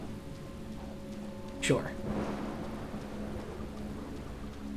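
Steady rain hisses in the video game Deadly Premonition, a soft continuous wash with a brief sharp crack near the start and a short spoken word over it.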